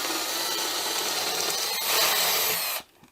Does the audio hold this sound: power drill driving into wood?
yes